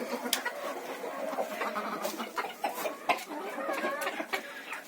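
Hens and bantams cluck and chirp in a village farmyard on a morning just after being let out of the coop, with busy overlapping calls near and far over a steady background.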